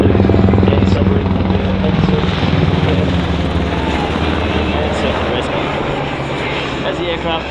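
A Royal Australian Navy MH-60R Seahawk helicopter with two General Electric T700 engines roars loudly and steadily past nearby at an air show, its engine and rotor noise filling the scene before easing slightly toward the end.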